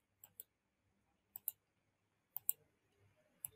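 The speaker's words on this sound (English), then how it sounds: "I'll just type the author's name here." Computer keyboard typing comes in short paired bursts of crisp key clicks, four small clusters spaced about a second apart, close and quiet against near silence.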